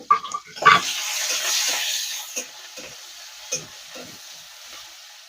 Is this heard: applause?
no